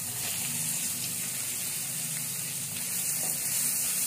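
Onions dropped into hot oil with fennel seeds give a constant, fairly loud hiss and spattering sizzle that runs unbroken with no voices.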